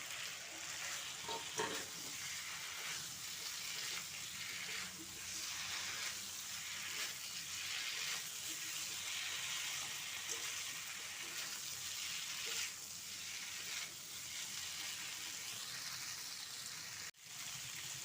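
Cauliflower florets sautéed with spices in a pan give a steady, soft sizzle with faint scraping stirs, continuous and close, with a brief knock near the end.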